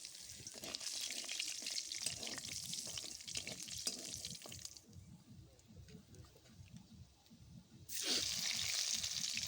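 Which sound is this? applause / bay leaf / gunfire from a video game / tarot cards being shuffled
bay leaf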